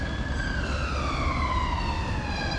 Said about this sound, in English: No city vlog is complete without the siren noise in the background, is it?